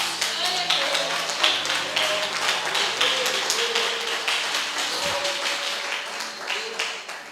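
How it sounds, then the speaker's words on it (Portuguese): A church congregation claps steadily and loudly in an even, dense rhythm throughout, with a voice speaking over the applause. "Pode aplaudir a Jesus."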